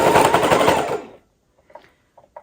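Sewing machine stitching leather pouch pieces, a loud close burst of rapid needle strokes that stops after about a second, followed by a few faint soft clicks.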